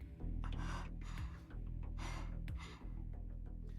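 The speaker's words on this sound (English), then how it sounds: "The girl tries to get her labored breathing under control" A girl's labored breathing, voiced in the Fate/stay night visual novel after she survives a spear attack, comes as several heavy gasping breaths in uneven bursts over a low, steady musical backdrop.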